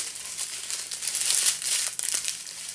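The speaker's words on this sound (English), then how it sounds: "So excuse my rustling while I get these in order here." Plastic strips of diamond art drills rustle and crinkle close by as they are handled and sorted, a continuous bright crackling with a few sharper crinkles and no talking.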